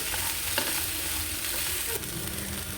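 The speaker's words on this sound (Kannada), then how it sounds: "ಟೊಮೆಟೊನು ಇದ್ರ ಜೊತೆಗೆ ಸ್ವಲ್ಪ ಫ್ರೈ ಮಾಡ್ಕೊಳ್ಬೇಕು." Tomatoes frying with chicken masala in a pan for chicken saaru give a steady, close hiss of sizzling oil, broken by a few light scrapes and knocks of stirring, with no one talking.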